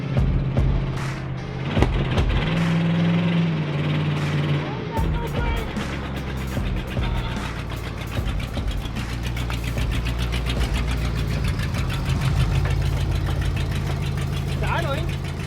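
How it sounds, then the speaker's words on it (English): A 1980 Pontiac Trans Am, long abandoned and being revived, idles with a steady low rumble and slightly uneven knocking beat, close by, with people talking over it throughout. "Idling."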